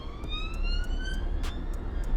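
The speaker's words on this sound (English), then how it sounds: "Police car. Another one." Police car siren heard from inside a truck, a loud rising wail with short rapid pulses, near and clear over low engine rumble.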